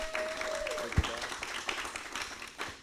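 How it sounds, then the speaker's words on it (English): Audience applause closing a music industry talk at Pantheon Music Academy, a moderate wash of clapping that holds steady for a few seconds under faint background voices. "Let's give it one more round of applause for Rowdy"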